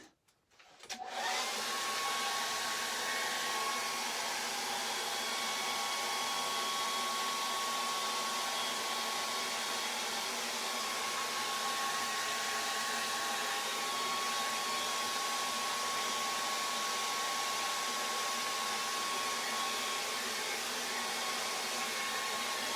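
A hair dryer drying a charcoal and acrylic painting, switched on with a click and then blowing as a steady, loud, even whoosh with a faint motor whine for over twenty seconds, with no talking.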